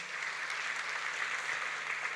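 Audience clapping for a film director at an Indonesian crypto talk event: steady, dense applause from a crowd, moderately distant, continuing evenly throughout with no pauses.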